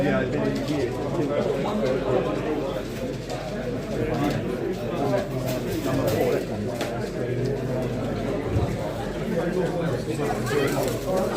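Racing pigeons coo and flutter in a busy, echoing hall at a pigeon show at Epsom racecourse, England, with steady chatter and background noise running throughout.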